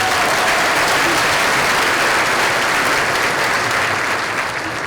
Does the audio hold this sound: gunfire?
no